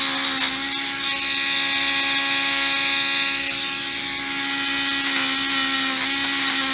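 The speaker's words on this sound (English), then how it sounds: "I'm going to sand that rough back end" A power tool sanding the rough back end of a metal bullet button gives a steady, loud, high-pitched whine that shifts slightly in pitch as it works, close up and without talk.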